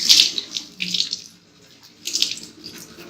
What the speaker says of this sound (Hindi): अब देखिए मैंने हाथ अच्छी तरह से धो लिए